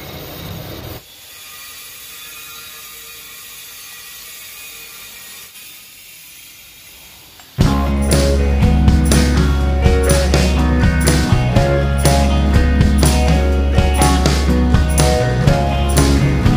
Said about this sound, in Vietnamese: Tiện lần cuối cùng mình sẽ thay lưỡi dao mới và tiện ít lại